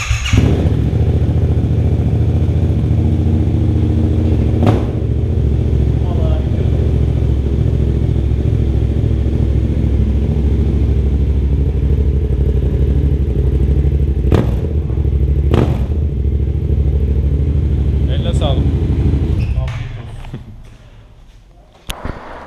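A motorcycle fitted with a Tiger aftermarket exhaust idles loudly up close with a deep, steady rumble and a few sharp revs, then shuts off near the end, leaving faint noise.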